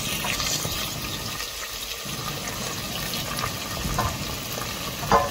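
Freshly washed mutton fries in oil with browned onions in a pressure cooker, a constant close wet sizzle with watery bubbling and a few stirring knocks, without any voices.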